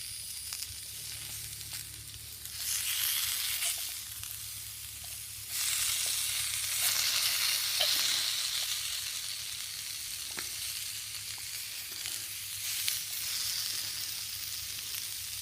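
Onions frying in a 1940s steel Boy Scout mess kit, a continuous close sizzle that swells louder in bursts as they are added and stirred, with occasional metallic scrapes and no talking.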